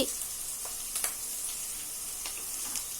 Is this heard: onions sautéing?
yes